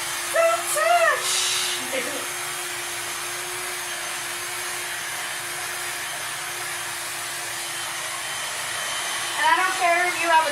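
A handheld blow dryer runs steadily with a constant whirring hiss and a fixed motor hum, close and loud throughout, while someone talks briefly near the start and again at the end during a long layered haircut styling session.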